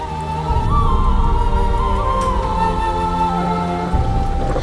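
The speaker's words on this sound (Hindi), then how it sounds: "इतनी बारिश में कैसे जाओगी?" Heavy rain pours in a steady, dense hiss through a Hindi TV drama scene, with sustained background music tones layered over the downpour and no speech.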